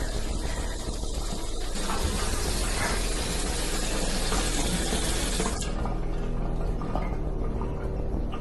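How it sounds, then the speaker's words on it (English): A steady, full rush of running water pours continuously, like a tap left on, with the tone shifting slightly partway through. "Oh my God, the water just turned on."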